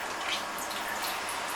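Water splashes and drips as washed bitter gourds are wrung out by hand in a kitchen, a close, continuous wet patter with no one talking.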